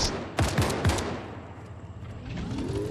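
Several rapid gunshots crack close together near the start of a Fortnite match, then give way to a quieter ambient rumble, with a faint engine-like whine rising at the end.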